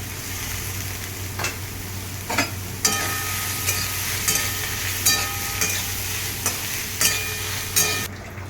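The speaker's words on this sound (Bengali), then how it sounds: "সেগুলো আমি এখন তেলের মধ্যে দিয়ে হালকা করে একটু নুন হলুদ দিয়ে ভেজে নেবো" Green soybeans sizzle steadily in hot oil with salt and turmeric, a spoon or spatula scraping and stirring the pan every second or so; no one speaks.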